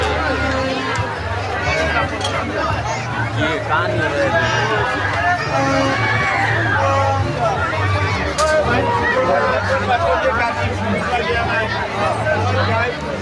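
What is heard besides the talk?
crowd hubbub near an overbridge market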